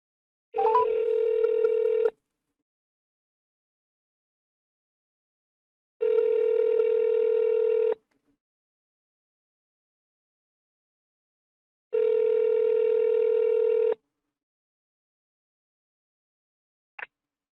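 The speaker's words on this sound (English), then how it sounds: "Here's the phone call." Telephone ringback tones on an outgoing call, three evenly spaced two-second buzzing rings about six seconds apart with silence between, clear and close, followed by a brief click at the end.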